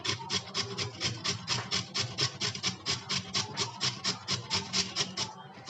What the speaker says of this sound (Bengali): গাজরটা গ্রেট করে নিচ্ছি।